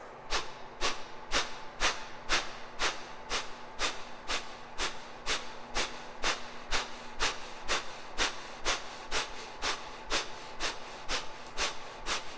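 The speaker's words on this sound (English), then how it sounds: "Now let's exhale about a third or halfway and begin to pump from the navel." Rapid, rhythmic yoga breath pumped from the navel, about two sharp nasal exhales per second in a steady unbroken train, close and alone with no talking.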